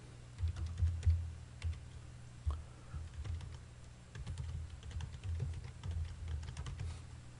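Typing on a computer keyboard while entering text in a desktop publishing program: a steady run of light, close key clicks in uneven bursts, with no talking.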